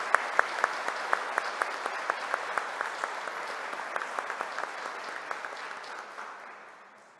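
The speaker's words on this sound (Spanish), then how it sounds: "Vamos a darle un aplauso al Espíritu Santo." A congregation at a church retreat claps together in a long burst, with sharp individual claps standing out early before the applause thins and fades away.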